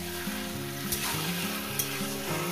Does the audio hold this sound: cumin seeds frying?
yes